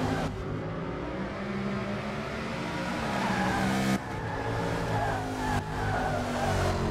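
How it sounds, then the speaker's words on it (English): Historic Trans Am race car at Laguna Seca, braking hard into the corkscrew, heard from on board: a loud, steady engine roar with shifting pitch and tire scrub, with brief dips as the revs drop. "Heavy, heavy braking by Wagonator."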